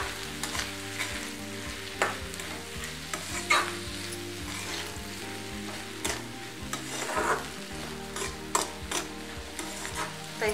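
Radish pods fry with red chili powder in a hot pan, a steady sizzle carrying repeated scraping stir strokes and occasional sharp clinks of the spatula, with no talking.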